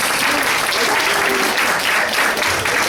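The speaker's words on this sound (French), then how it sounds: "Alors je vous demande d'applaudir Monsieur Igor Grishka Bogdanov." Dense, continuous applause from a large audience fills the whole moment, loud and unbroken.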